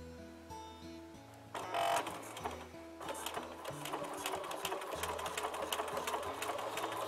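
A sewing machine joins two hexagon fabric pieces with a bridging stitch for English paper piecing, starting with slow, uneven motor hums, then settling into a fast continuous rattle of needle strokes, close and fairly quiet.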